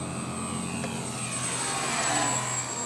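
A Dynam BF-110 1500mm twin-engine RC model warplane passes slowly on a landing approach with its gear down, a steady whirring motor drone held at an even level throughout.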